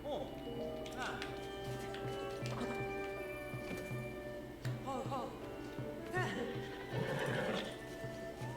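A horse whinnies several times amid rhythmic clip-clopping hooves in The Legend of Zelda: Tears of the Kingdom, with other game sounds and a voice talking underneath.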